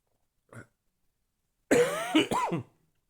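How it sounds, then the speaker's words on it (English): A faint click, then a short burst of harsh coughing and throat clearing, close and alone in an otherwise quiet room. "I'm coughing on my own stuff."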